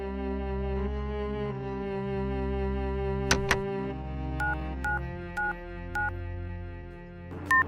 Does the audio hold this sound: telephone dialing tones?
yes